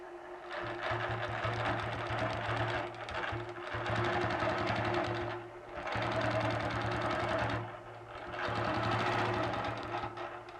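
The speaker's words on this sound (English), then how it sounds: "Now what I'm going to do is quilt half of the star initially." A sewing machine quilts a star pattern with a template, running in fast steady stitching bursts of a few seconds each, separated by short pauses, close and even.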